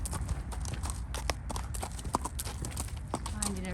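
A horse's hooves clip-clop at a relaxed walk during groundwork training, with steady, fairly close footfalls while a person talks over them.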